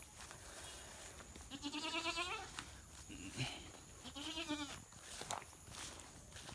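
A goat in a rural yard bleats twice in long, wavering cries a couple of seconds apart, fairly close but quiet against faint outdoor background noise.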